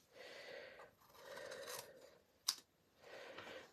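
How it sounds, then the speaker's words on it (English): Scissors cut out a Christmas card, with several quiet, close snipping passes in short bursts separated by pauses and one sharp click partway through. "So I'm going to go ahead and bring my scissors."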